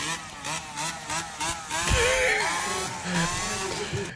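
A motorcycle exhaust revs and rumbles nearby, rising and falling in pitch with a rough, throaty growl.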